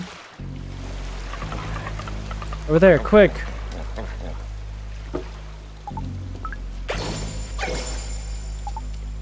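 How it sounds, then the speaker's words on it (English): Steady rushing water from a waterfall in the video game Eastward runs as a constant wash through the whole stretch, with someone talking over it and brief game chimes and effects rising above. "Under the waterfall we go."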